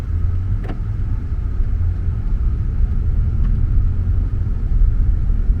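A BMW M340i in Brooklyn Grey on its first drive, heard from inside as a steady low engine and road rumble that holds an even level throughout, with no voices.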